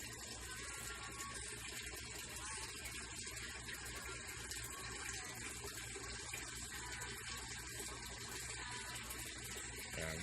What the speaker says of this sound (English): Now the tank on the left is rapidly dumping into the tank on the right.